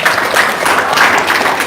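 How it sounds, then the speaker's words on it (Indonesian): A small group claps hands together briefly, a quick burst of close, even applause that stays steady for a moment. "tepuk tangan dong."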